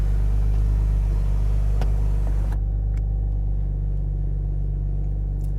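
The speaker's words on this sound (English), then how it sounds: "Car sounds good idling" Steady low rumbling idle of a Camaro RS with a V6 engine and 1LE package, a constant deep hum heard from inside the car, loud and even with a faint click partway through.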